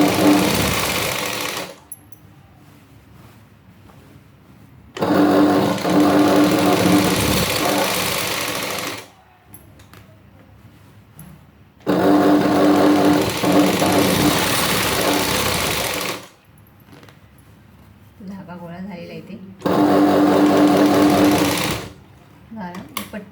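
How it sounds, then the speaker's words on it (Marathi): A sewing machine stitches a saree petticoat in three loud, sustained runs of rapid mechanical whirring, separated by quieter pauses where a voice talks. "अशा प्रकारे ही मी शिलाई मारत आहे बघा"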